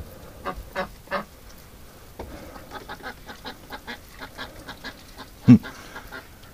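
A flock of domestic ducks quacks in a winter yard, giving a string of separate calls of varying loudness, with one sharp, loud quack near the end standing out over the rest.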